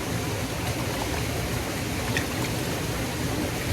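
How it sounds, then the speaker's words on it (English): A small waterfall on the Tantalus Arboretum Trail on Oʻahu, Hawaiʻi, pours in a constant broadband rush of falling water, close and steady throughout, with no voices. "in this nice waterfall here."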